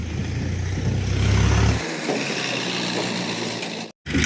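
A heavy tractor engine rumbles loudly and steadily on a soybean farm, then abruptly drops away, leaving quieter background noise with a brief cut near the end.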